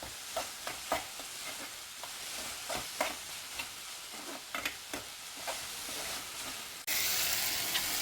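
Onion and tomato sautéing together in a pan, a steady close sizzle broken by scattered clinks and scrapes of stirring, growing suddenly louder and hissier toward the end.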